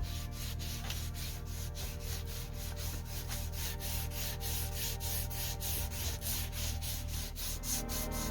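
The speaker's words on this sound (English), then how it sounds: "now it's just time to rub the stain on" Wood stain is rubbed by hand onto a cabinet, a quiet rhythmic swishing and scrubbing in fast regular strokes, close up over a steady low background hum, with no talk.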